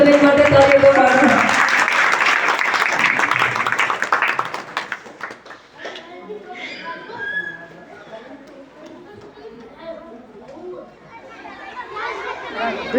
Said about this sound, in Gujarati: વર્ષાબેન માટે તાળીઓ પાડો